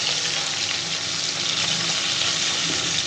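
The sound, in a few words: hilsa fish frying in a pan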